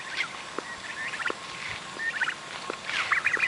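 Backyard fowl roaming a two-acre property, with turkeys among them, let out repeated bursts of gobbling and clucking at close to middling distance over steady outdoor ambience.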